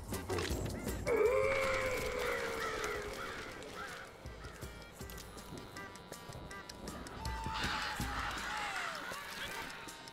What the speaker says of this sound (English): These crows are relentless.